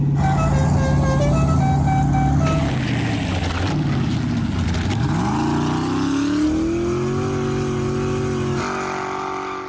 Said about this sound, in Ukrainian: Ми від'їдемо назад і одразу кинемося вперед.